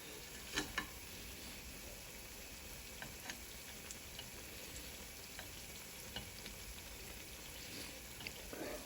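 Banana unniappam batter fries in hot oil, a steady close sizzle and crackle throughout with small pops and occasional light taps of a utensil.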